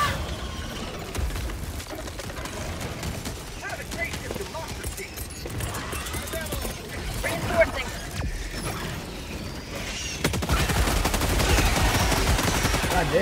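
Turret gunfire in the video game Helldivers 2 makes a sustained rattling barrage with mechanical clatter, and the noise swells louder toward the end amid a chaotic battle soundscape.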